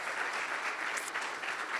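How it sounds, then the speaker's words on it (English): A conference audience at KubeCon in Detroit claps for an intern walking on stage, a moderately loud, steady patter of many hands without talk. "So let's give him a round of applause."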